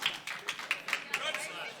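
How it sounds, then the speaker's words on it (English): A slap-fight championship audience gives a sparse, half-hearted golf clap after a weak slap: a handful of slow, separate claps, fairly quiet, with voices talking over them. "I always find it funny when the audience gives a golf clap after sort of a tepid slap."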